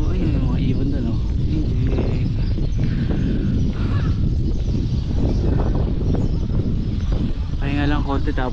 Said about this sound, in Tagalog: Ayun yung mga ibon doon oh.